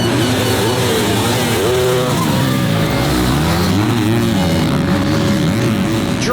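Several motocross bikes race through a turn at an outdoor pro race, engines screaming loudly and overlapping with rising and falling pitches as they accelerate past close by.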